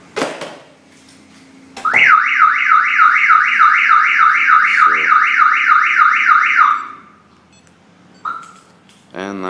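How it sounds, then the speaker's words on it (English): A Viper 5901 alarm on a Jeep Wrangler, set off through the hood pin, blares a loud rising-and-falling siren for about five seconds after a short chirp, then stops, followed by a brief beep. "if I unlock it, the hood pin should set off the alarm."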